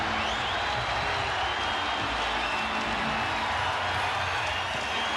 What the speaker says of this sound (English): Crowd trying to rile up the LA Lakers